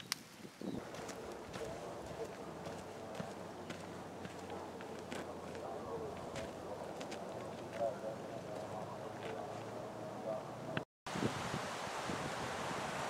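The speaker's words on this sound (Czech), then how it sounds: "Nezabudické skály a šílený vítr." Strong, steady wind buffeting the microphone at the Nezabudice rocks above the Berounka river, a continuous roaring rush lasting throughout with brief gusts and a short dropout near the end.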